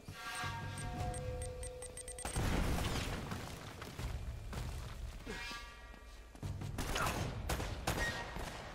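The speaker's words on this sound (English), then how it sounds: "Oh god, grenade!" A grenade blast and bursts of gunfire in the video game Uncharted: Drake's Fortune, two heavy booming impacts rolling under sustained rapid shots and loud battle noise with a faint tone at the start.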